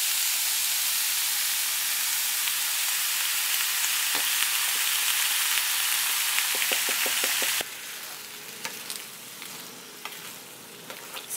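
Spiced tomato purée going into a hot pan for an eggplant lasagna gives a loud, continuous sizzle and hiss that drops sharply in level partway through and then carries on more softly, with a few clicks of a utensil.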